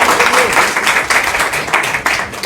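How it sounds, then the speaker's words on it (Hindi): A group of people clapping together at a gathering, sustained dense applause that stays fairly loud and steady through the whole stretch, with a little crowd noise mixed in. "तो कम से कम इसके लिए तो यार ताली तुम लोग बजाओ"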